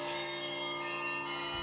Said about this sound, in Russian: Колокольный звон – это голос церкви